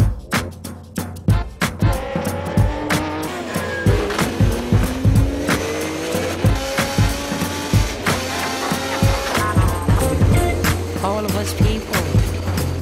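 Nissan 350Z race car lapping the Silverstone circuit, engine tone rising and falling through gear changes over a steady rumble, with rhythmic thumps and bumps from inside the cabin throughout.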